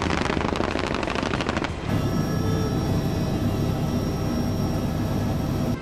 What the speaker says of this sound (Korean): 우리의 자랑스러운 한국형 기동 헬기 수리온 4대가 우측 관람석 전방으로 공중 기동하고 있습니다.